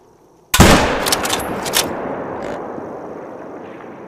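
A hunting rifle fires once in theHunter: Call of the Wild, a sharp, loud crack followed by a long rolling echo that slowly fades across the outdoor game landscape.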